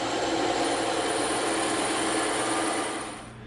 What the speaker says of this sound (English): now we're going to go over to the bandsaw and we're going to cut this pattern out